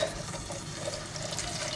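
Water poured into a pot holding a tinned tomato base, giving a steady, close running-water splash that stays even throughout, with no talk.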